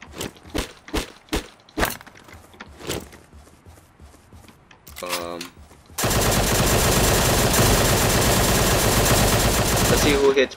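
Gunfire in the game Surviv.io, a string of sharp, distinct single shots at an uneven pace, then a short rattle and a sudden loud, dense burst of continuous fire running to the end.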